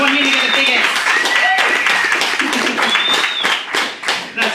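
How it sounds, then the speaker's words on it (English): A comedy-night crowd claps and cheers for a performer, a sustained burst of applause mixed with whoops and voices, staying fairly loud throughout and tapering slightly at the end. "please do give him an even bigger round of applause"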